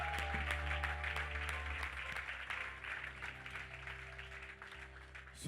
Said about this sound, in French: Continuez à applaudir